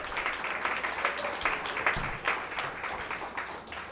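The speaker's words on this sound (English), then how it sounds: "Clap for Leif Erikson, everybody" A comedy club audience claps steadily for a few seconds, a dense, moderately loud patter of many hands filling the room without a break and with no voices over it.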